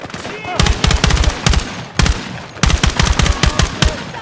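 Automatic rifle fire in the video game Battlefield 6 rattles in loud, rapid bursts with short gaps, close and dominant, with only faint hints of voices underneath.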